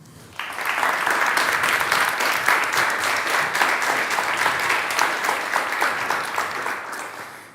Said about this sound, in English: Please, some applause for them